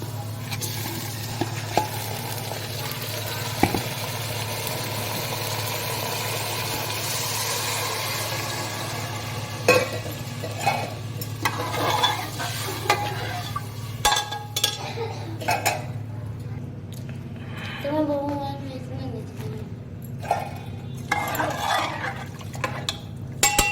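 Rice is tipped into browned fried onions in a pan and stirred, the spoon clattering and scraping against the metal over a low, constant hum, with the knocks growing sharper and more frequent in the second half.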